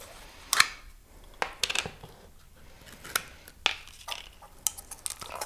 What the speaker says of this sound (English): I'm going to be mixing it in this container with the palette knife, and we're combining it with liquitex thickening gel